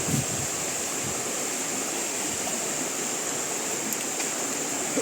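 Steady broadband rush of river water flowing in Buenavista, Murcia, a constant close wash with no voices, rising and falling only slightly across the whole stretch.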